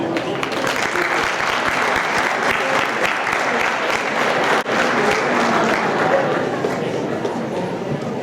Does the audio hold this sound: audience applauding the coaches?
yes